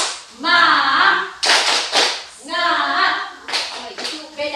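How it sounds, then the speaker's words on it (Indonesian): A group does a rhythmic spirit clap in a school training session, bursts of sharp clapping alternating with chanted voices in a repeating pattern, close and fairly loud. "Kita beri tepuk semangat dulu ya."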